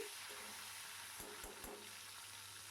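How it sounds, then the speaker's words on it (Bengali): Two eggs fry in hot oil in a pan for a potato and egg curry, giving a steady, quiet sizzle with a few faint stirring clicks and no voices. "এবারেতে যেই তেলটা ছিল তার মধ্যে আমি ডিম দুটো দিয়েছিলাম"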